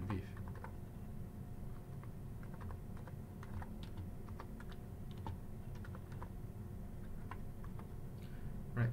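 Rapid irregular clicking of a computer keyboard as someone types into an Excel spreadsheet, steady close keystrokes with no speech.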